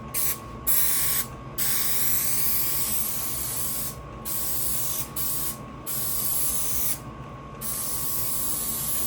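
Several short hissing bursts from an aerosol can sprayed while trimming a car dashboard, one after another with pauses between, close and fairly quiet against a steady background hum.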